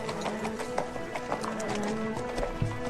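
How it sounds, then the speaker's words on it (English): Horse hooves clip-clop at a quick, uneven pace over a steady background bed, with a few sharper hoof strikes standing out near the end. "Well, I have to fetch my horse."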